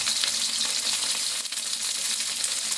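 Cauliflower, carrot, beans, green tomato, paneer and green chili stir-fry in hot oil with a loud, steady broadband sizzle and crackle throughout, no voices.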